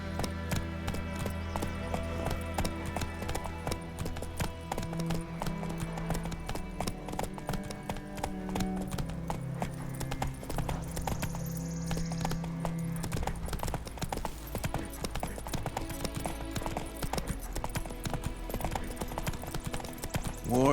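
Roach, Geralt's horse in The Witcher 3, gallops with steady rhythmic hoofbeats beneath a continuous orchestral score, the clip-clop holding at moderate volume throughout with no talk.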